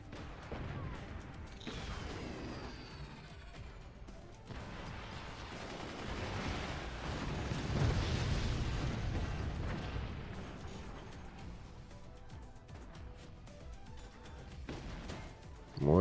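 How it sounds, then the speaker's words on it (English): A scattered volley of swarm missiles launches and impacts in the strategy game Forts, a dense rumble of distant firing and explosions rising and falling with a sharp hit at the end. "Not a full launch this time, just a scattering of swarm missiles."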